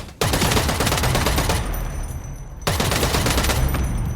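Loud, dense gunfire in the EVE Vanguard video game rattles continuously, briefly thins out, then starts up again in a second heavy burst.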